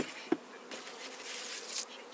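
Honeybees buzz around an open hive during a spring inspection, a soft steady insect drone with a sharp tap near the start and a brief closer buzz passing by toward the end.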